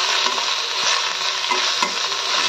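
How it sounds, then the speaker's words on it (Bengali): Bottle gourd greens fry in hot oil with chili and salt, giving a steady, loud, close sizzle that runs without a break, with a few soft clicks of stirring. "শুধু লঙ্কা আর নুন দিয়ে ভাজা ভাজা করছি"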